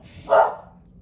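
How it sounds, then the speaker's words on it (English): A pet dog gives a single short, loud bark close by, with no voices around it. "listen to my dog bark"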